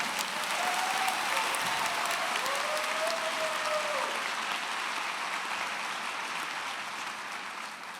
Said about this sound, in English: Yes, we can clap.